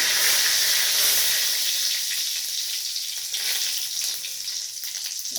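Whole cumin, bay leaves and spices hitting hot oil in a pan, a loud close steady sizzle and crackle that fades slightly over a few seconds.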